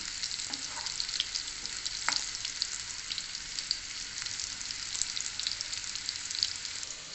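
Bitter gourd frying in a pan under a lid, a soft continuous sizzle and crackle with occasional small pops, steady and fairly quiet, with no voices.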